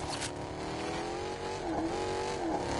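A car engine in the video game Fortnite whines and revs steadily at a distance, its pitch shifting slightly as it approaches, with no talking.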